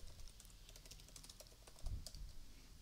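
A short burst of quiet, close keystrokes on a computer keyboard, tapped at an uneven pace with a low thump partway through.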